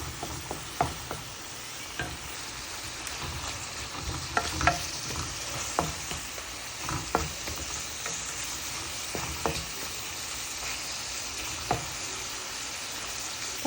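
Rohu fish curry with fresh broad beans, potato, tomato and garlic paste sizzles in a pan. Repeated scraping stirs break through a steady frying hiss at irregular intervals, heard up close with no talk.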